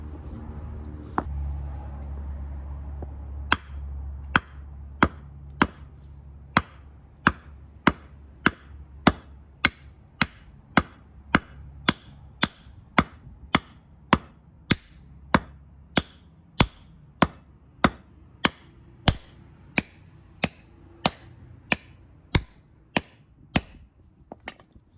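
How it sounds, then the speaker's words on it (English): Sharp hammer blows hammering a control arm onto a BMW E36/E46 front suspension, struck in a steady rhythm of around thirty evenly spaced hits, close and loud over a low background rumble. "just line it up and hammer it on"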